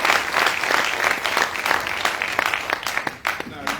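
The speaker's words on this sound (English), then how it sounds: "Una clap for President Yuan." An audience at a public address in Sierra Leone bursts into strong, sustained applause, with dense clapping that thins slightly toward the end.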